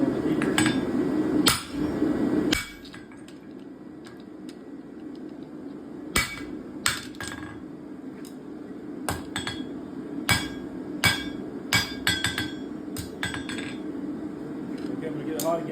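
Hot steel is struck with a hammer on a guillotine tool while forging a leaf door handle, giving a series of sharp, ringing metallic blows at irregular intervals over a steady low hum, close and loud.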